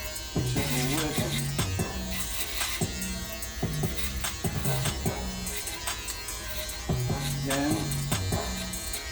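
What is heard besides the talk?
electric hair clippers cutting a burst fade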